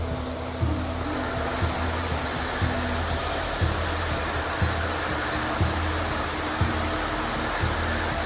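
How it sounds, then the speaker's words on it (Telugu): Large waterfall at Kalimpong plunging from a great height, heard as a loud, steady broadband roar of rushing water that stays unbroken and close throughout, with a faint low hum underneath. "చాలా పెద్ద జలపాతం, చాలా హైట్ నుండి పడతాయి ఇక్కడ."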